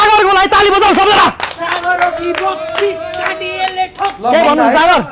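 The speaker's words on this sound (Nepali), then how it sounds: "ताली बजाऊ सबैजना" An audience at a blind-date game show bursts into loud clapping and cheering, then a host's voice talks over fading applause before another burst at the end.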